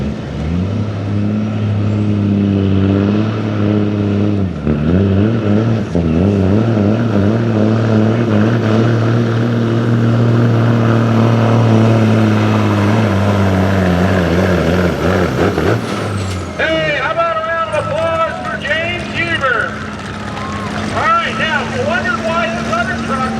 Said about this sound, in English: This is an electronic motor truck.